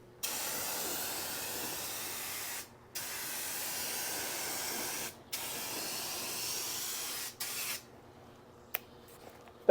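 Rust-Oleum flat black spray paint blasts from a wide-fan turbo can in three long steady hissing bursts with short pauses between them. Each burst is close and even, and quieter clicks and a final short spurt follow.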